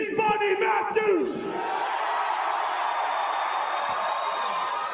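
Wrestling arena crowd cheering for Buddy Matthews, a big roar of yells and whoops at the start with a voice over it, then settling into a sustained loud crowd hum.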